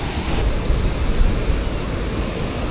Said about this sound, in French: Là normalement vous devez voir toute la cascade dans toute sa splendeur.